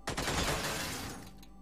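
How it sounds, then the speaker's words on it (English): Gunfire from the turn-based strategy video game Xenonauts comes as a short burst of rapid shots, loud and dense at first, then tailing off within about a second and a half. "Shoot him."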